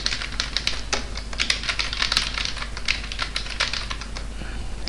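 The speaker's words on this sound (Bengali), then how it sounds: "ডকুমেন্টের মধ্যে কিছু লিখি।" Rapid, steady clatter of keystrokes on a computer keyboard while typing text into a Microsoft Word document, close and fairly loud over a constant low hum, with no talking.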